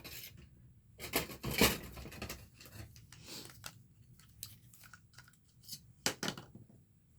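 Fiskars Razor Edge scissors trimming fabric around a sewn pocket, giving a series of close, crisp snips and rubbing cuts, strongest in a burst near the start and again toward the end.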